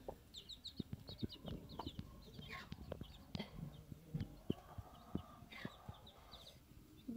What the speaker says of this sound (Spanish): Acá tenemos a la mamá gallina con sus pollitas.